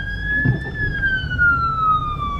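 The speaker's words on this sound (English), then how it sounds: "Sirens, exactly." A steady siren wail with a slowly falling pitch and clear harmonics, heard over low rumbling background noise.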